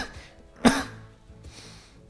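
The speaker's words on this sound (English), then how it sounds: "So my cough evidently doesn't want me to ramble on about Christmas" A single sharp cough bursts out, loud and close, followed by quiet room tone and faint breathing.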